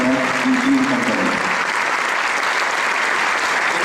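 Audience applause at a concert in the Atrium de Viladecans, a dense steady clapping from a crowd filling the hall, loud and even throughout with a brief voice fading out at the start.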